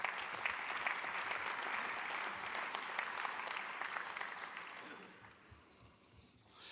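An audience at a general meeting in Nantes claps steadily, a dense wash of applause that holds for several seconds and then gradually fades away.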